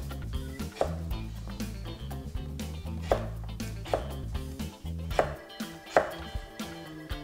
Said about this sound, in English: we take our slabs of carrot and cut them down, again, round about 8 millimeters square.